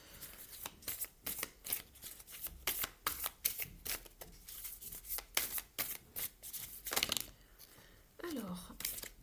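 Tarot cards are shuffled in rapid, close riffles and rustles, a steady run of brisk papery bursts, briefly under a voice near the end.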